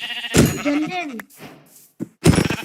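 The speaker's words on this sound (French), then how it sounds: "On a des moutons." Sheep in a video game give a few wavering bleats, close and clear, with a person talking in between and a couple of soft knocks near the end.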